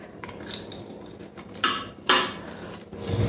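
Salt, turmeric and chili powder are rubbed by hand onto catla fish pieces in a dish, giving sparse close clinks and scrapes of the dish with two sharper clatters in the middle.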